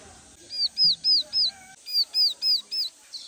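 A young, captive yellow-legged bird gives loud, ringing whistled calls nearby, two bursts of four evenly spaced notes each.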